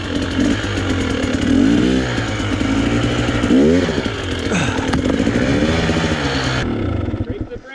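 Enduro motorcycle engine revving hard and changing pitch while riding over obstacles, loud and close throughout, dropping off near the end.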